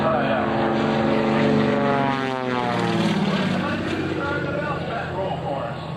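Aerobatic propeller airplane at the 2003 NAS/JRB Willow Grove Air Fest, rolling through an air show maneuver: a loud, steady engine drone whose pitch sweeps as it passes, with an announcer talking over it.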